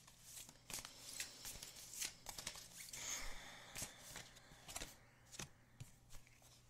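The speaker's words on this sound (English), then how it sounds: "we'll just have a moment here to shuffle through these cards" A deck of cards is shuffled by hand in quick, crisp riffling bursts, close and fairly quiet, with no talk over the sound.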